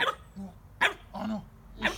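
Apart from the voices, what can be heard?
dog barking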